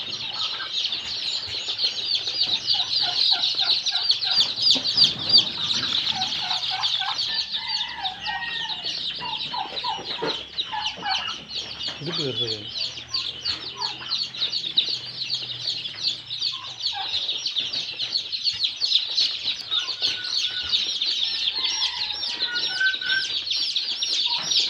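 A crowd of local-breed chicks peeps constantly and densely alongside occasional clucking from chickens, a busy, close chorus that never lets up, with no talking.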